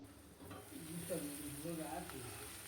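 Amra (hog plum) pickle cooks in a pan and is stirred, giving a soft sizzle and scraping, with a faint voice-like murmur underneath.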